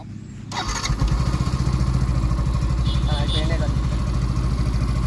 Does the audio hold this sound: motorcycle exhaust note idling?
yes